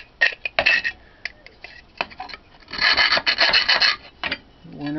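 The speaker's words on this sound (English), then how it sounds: "deburr this a little bit. Take a rat tail file and it's just a round rasp." A rat tail file rasps metal to deburr a canteen cup stove, giving short close scraping strokes in an irregular rhythm with brief pauses between them.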